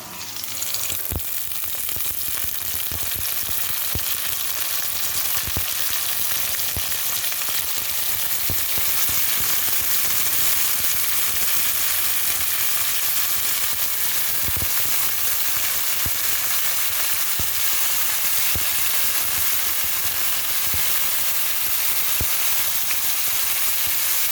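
A potato dish frying in a pan in a home kitchen: a steady, loud, close sizzle that runs without a break, with faint crackles and no voices.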